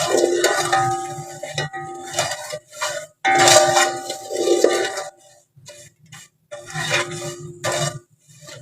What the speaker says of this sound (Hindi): इसी तरह ही आपने चम्मच को हिलाते रहना है